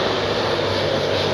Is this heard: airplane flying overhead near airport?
yes